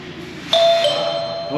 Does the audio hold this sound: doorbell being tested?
yes